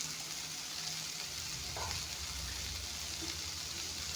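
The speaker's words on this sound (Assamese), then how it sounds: "এয়া চাওক, পানী দি দিছোঁ, গৰম পানী।" Hot water poured into a frying pan of fish and beans, giving a steady close sizzle and bubbling hiss that swells slightly partway through, with no talking.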